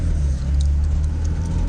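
Steady, close engine drone from a Simca 1000 Rallye 2, heard from inside the car as a low rumble at an even pace throughout.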